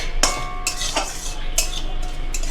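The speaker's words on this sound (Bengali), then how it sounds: "আর পোস্তটা আমি হচ্ছে ড্রাই রোস্ট করে নিচ্ছি এখানে" Poppy seeds are dry-roasted in a pan, with a spatula scraping and clinking against the metal several times over a steady low hum.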